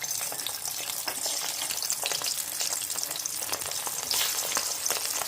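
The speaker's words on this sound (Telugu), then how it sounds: "ఆయిల్ హీట్ ఎక్కగానే మనము బాయిల్ చేసి పెట్టుకున్నాం కదా ఈ పొటాటోస్ ఇందులో వేసి ఫ్రై" Boiled potatoes deep-fry in hot oil in a kadai, giving a dense, continuous bubbling sizzle with faint crackles throughout.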